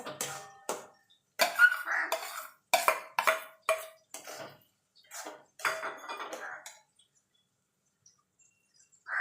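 Spice paste being stirred into fried taro leaves with shrimp in a pan, heard as short bursts of utensil scraping and clatter separated by pauses, close and moderately loud, then trailing into near silence.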